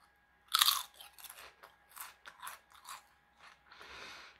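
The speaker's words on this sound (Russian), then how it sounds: "Чипсы сильно хрустящие, маленького размера." Small, very crisp fried Bruto potato chips crunched and chewed up close, a loud first bite followed by a steady run of sharp crackling chews, no voices.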